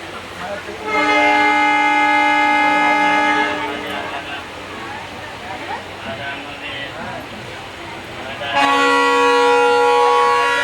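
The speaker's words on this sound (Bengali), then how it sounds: "ট্রেনে উঠেছি, হলদিবাড়ি যাচ্ছি এখন" A train arriving on the Haldibari line sounds its horn in two long, loud, close blasts separated by rumbling rail noise, with possible voices underneath.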